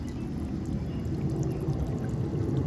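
A solar-powered garden water fountain still running after dark, its spray making a steady splashing, pouring rush close by with no voices.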